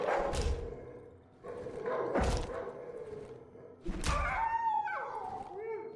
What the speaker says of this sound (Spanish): ¡Uy, hay un perro ahí!